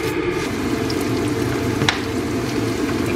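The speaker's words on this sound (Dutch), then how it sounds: "Gewoon met vermicelli ga ik dus eerst bakken." Steady, close sizzling of vermicelli noodles frying in hot oil in a pan, with a faint clink partway through and no talking.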